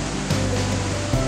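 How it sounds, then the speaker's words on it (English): Big Smokey Falls, where the Wolf River drops over 20 feet on the Menominee Reservation in Wisconsin, roars as a steady, loud wash of falling water with no break or voices. "Here the Wolf River drops over 20 feet."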